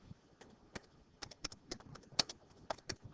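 Keystrokes on a computer keyboard, a quiet, irregular series of light clicks and taps in quick bursts, with no talking.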